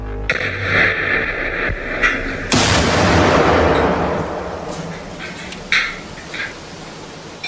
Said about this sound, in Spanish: es sometido a la fuerte detonación de una explosión de bomba colocada en un vehículo adyacente